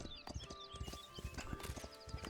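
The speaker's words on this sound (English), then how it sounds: "While the guy on the horse is coming, we'll see." Horse hooves clip-clop in the medieval city-building video game Foundation, a steady walking rhythm of light knocks over a soft ambient game soundscape with no talking.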